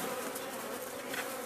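Honeybees buzzing at an apiary hive, a dense steady hum close by that carries on without a break and with no voices.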